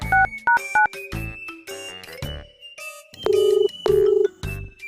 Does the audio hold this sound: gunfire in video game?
no